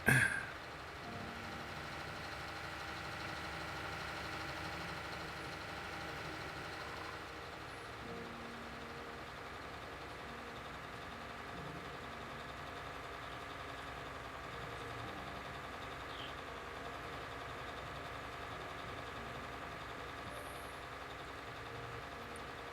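A two-track tractor's engine runs steadily in the video game Farming Simulator 19, a low droning hum with faint knocking texture that holds at an even level for over twenty seconds, with no talking.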